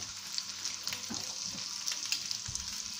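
Salmon frying in a pan of butter and oil, with a steady close crackling sizzle and scattered pops, a few low clatters from the pan, no voice.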